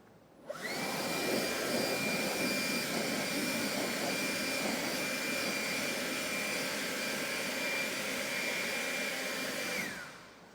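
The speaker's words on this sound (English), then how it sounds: "easy to dry with forced air" A forced-air blower roars steadily for about ten seconds, drying a freshly waxed Kia with its loud whooshing rush, starting and stopping cleanly with no voices.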